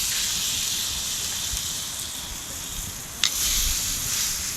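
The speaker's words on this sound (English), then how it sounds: "listen to that sizzle" Hash browns sizzle on a campfire outdoors, a steady broad hiss of frying that holds at an even level throughout, with one brief sharp crackle near the end.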